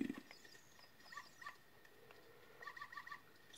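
A dog in the Ocarina of Time video game whimpering, a few thin high whines in short repeating bursts, faint and mid-distance over quiet game ambience, with no speech.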